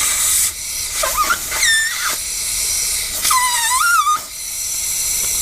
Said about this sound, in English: you can hear down there that there's an air leak